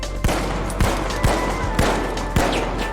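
Gunfire from a gun in the video game The Finals, five loud, evenly spaced shots about half a second apart over a constant dense game background, with no talking.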